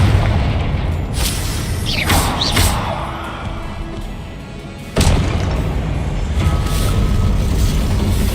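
Expelliarmus and Protego spell effects during a Hogwarts Legacy duel: rumbling booms with swishing whooshes early on, then a sudden heavy thud-like blast midway followed by further loud crashes and impacts.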